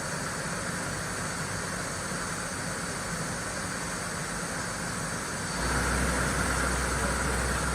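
A used 2007 Mori Seiki NL3000Y CNC turning center runs its spindle at rising speeds, giving a steady, dense mechanical whir that jumps to a louder, deeper hum partway through, with no voices.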